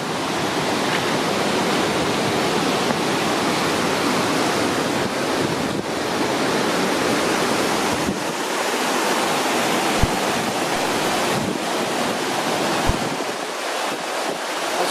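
Rushing stream water beside a camp in Wyoming's Wind River mountains pours steadily and loudly, a dense continuous roar close by, with gusts of wind noise on the microphone and a few faint knocks near the end.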